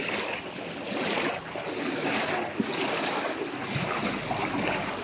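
Floodwater in Roxas, Oriental Mindoro rushes steadily in a broad, continuous wash, loud and close, with surging swells and a brief splash midway.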